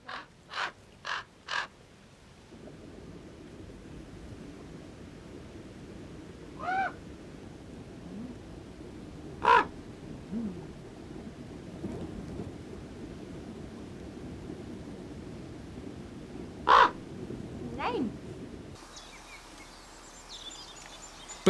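Ravens give scattered harsh, loud caws: three quick calls at the start, then single calls at wide intervals over a low outdoor rumble. No one speaks.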